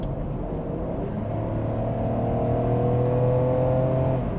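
A car passes by outside a closed-window 2001 Toyota Crown Estate 4WD wagon, a steady engine drone and tire roar that swells and rises in pitch, heard muffled from inside the quiet cabin with no talk.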